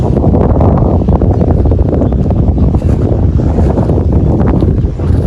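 Strong wind buffets an outdoor microphone near a temple roof, making a loud, continuous rumbling roar that runs the whole time with no clear talk.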